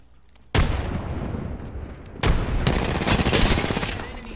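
A frag grenade blasts in the Apex Legends video game, two loud, heavy booms arriving about two seconds apart, the second rolling into a long, dense wash of crackling debris and gunfire-like rumble.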